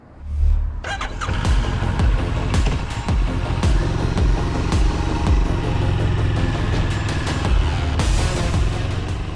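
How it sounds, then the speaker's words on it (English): Moto Morini X-Cape 650 motorcycle with a 649cc liquid-cooled parallel twin, riding with a steady, loud engine rumble that rises after a brief quiet start and holds throughout, no talk. "So let's go and ride this motorcycle."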